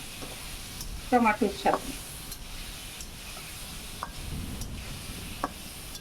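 Minced garlic and tomato sizzle in a pan for karahi chicken, a steady soft frying hiss with a few brief louder bursts, while a person speaks briefly.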